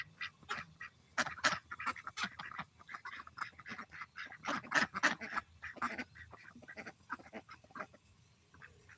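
Male farm ducks, along with a female, give a busy series of honking, nasal quacks at dusk, with irregular calls in clusters across the whole stretch, fairly close but moderately quiet.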